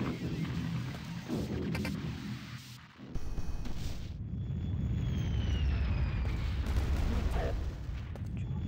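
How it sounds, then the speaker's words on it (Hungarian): Gunfire and explosions boom and rattle through a Quake II firefight, heavy low rumbling blasts with a brief lull before the din builds again and carries on steadily to the end. "Robban itt minden."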